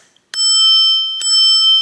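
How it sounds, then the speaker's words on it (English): The bell on a Segway Ninebot Max G30P electric scooter rings twice, two bright metallic dings, loud and close, each leaving a long ringing tone, with no talking. "There are some other features up here, like a bell, which is nice."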